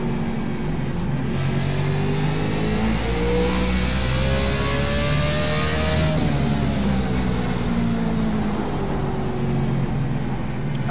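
A race car engine in the iRacing sim holds a loud, steady drone that climbs and falls in pitch as it revs through the gears, with no voices over it.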